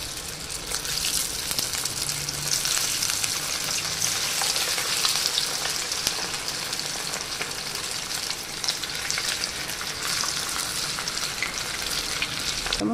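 Chicken 65 pieces fry in hot oil with the stove switched off, a dense, loud bubbling sizzle that stays close and steady for the whole stretch.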